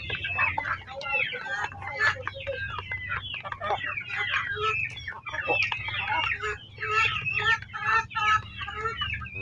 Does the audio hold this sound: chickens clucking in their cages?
yes